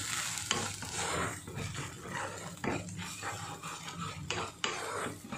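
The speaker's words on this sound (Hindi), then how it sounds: "अब इसको भी अच्छे से भून लेंगे" Bheja fry, goat brain with garam masala, being stirred and fried in a pan, giving faint continuous sizzling with scraping strokes and occasional sharp taps.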